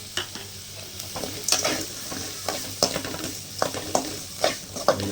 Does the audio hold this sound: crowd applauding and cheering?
no